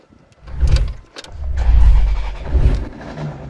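Maserati GranTurismo Sport engine turning over and catching, a deep rumbling start followed by swelling revs that rise and fall, loud and close with no talking.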